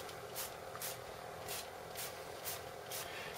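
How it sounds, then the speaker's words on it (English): A spray bottle fires seven quick, evenly spaced hissing bursts over a steady background whoosh. "we're going to try this spray, see what happens"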